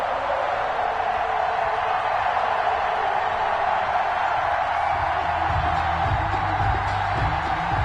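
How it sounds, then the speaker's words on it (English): Steady roar of a video game football stadium crowd ahead of an NFL matchup with the Seattle Seahawks, a dense, continuous wash of cheering at constant loudness throughout, with no clear speech over it. "This crowd is ready as their guys get set to match up with Russell Wilson and the Seattle Seahawks."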